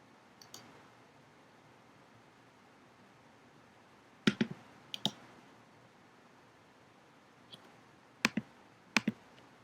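Faint, sharp clicks of a computer mouse over quiet room noise, arriving as single clicks and quick pairs spread out across several seconds.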